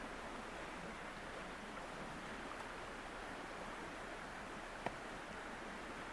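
A forest river flows in a constant broadband rush, heard as steady, fairly quiet background wash with one faint click partway through.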